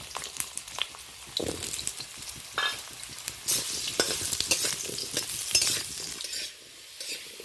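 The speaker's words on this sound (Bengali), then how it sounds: "প্রথমত কেটে রাখা আলুটা তুলে দিচ্ছি কড়াইতে।" Cut potatoes going into hot oil in a wok, with a rising sizzle, repeated scraping and stirring of a utensil against the pan, and a few clattering knocks.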